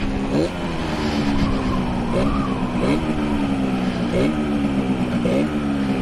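An old two-stroke motorbike being ridden, its engine droning steadily close by, with the pitch rising and dropping every second or so as the throttle works and the gears change.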